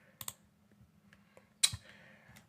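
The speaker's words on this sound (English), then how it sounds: "I can manually just use my keyboard to do this" A few sparse, faint key clicks on a computer keyboard during a Windows 11 setup, with soft single presses and a sharper keystroke near the end over a low hum.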